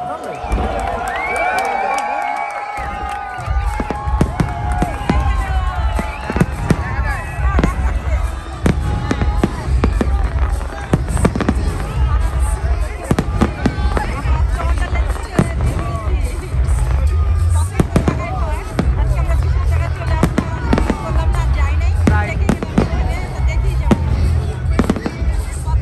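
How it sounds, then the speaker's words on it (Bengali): Canada Day fireworks burst and crackle in a long, dense barrage at an outdoor celebration, with crowd noise and cheering throughout and people talking nearby. "পুরা কানাডা একসাথে আতশবাজি শুরু হবে এখন।"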